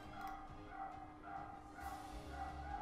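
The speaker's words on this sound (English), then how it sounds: "Sorry about the dogs outside." Dogs bark outdoors at a distance in repeated short bursts, sitting faintly beneath a steady background hum.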